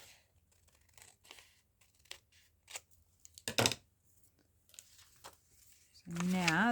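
Paper being trimmed for a book page pocket, a few short crisp cutting and rustling bursts spaced between quiet gaps, close by, followed by a person starting to speak at the end.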